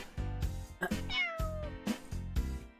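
A voice imitates a cat with a drawn-out, gliding meow over rhythmic background music, fairly faint overall.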